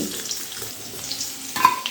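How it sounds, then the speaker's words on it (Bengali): Potatoes fry in hot oil in a pan with a steady, soft sizzle. A brief clink sounds near the end, and no one speaks. "এদিকে দেখুন আলুগুলো কিন্তু খুব ভালো করে ভাজা হয়ে গেছে"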